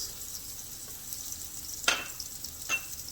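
Sliced garlic frying in a little leftover oil, a steady soft sizzle with a couple of brief louder crackles and stirring scrapes, close by with no talking.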